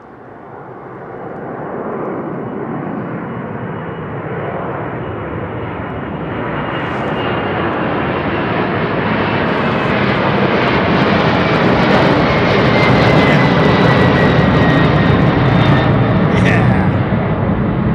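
An airliner with raked wingtips departs London Heathrow directly overhead, its jet roar swelling from moderate to loud and staying powerful, with a rising engine whine layered through the broadband rush; a voice speaks under it.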